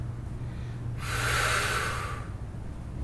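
A Pilates instructor draws in a single audible breath in the middle of a mat exercise. The inhale is a close, airy rush lasting about a second, heard alone with no talking over it.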